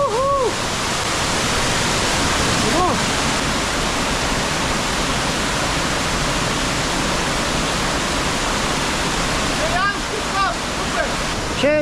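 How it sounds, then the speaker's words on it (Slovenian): Waterfall in the karst landscape of Istria, Croatia, roaring steadily and close at hand as a dense, even rush of falling water for the whole stretch, with no talk over it. "Pa še nov slap."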